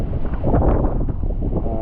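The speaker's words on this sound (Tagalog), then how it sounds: "Napakalakas pa rin ng hangin at ng bagyo" Strong typhoon wind roars continuously and loudly into the microphone, a dense buffeting rumble with gusty swells and no pauses.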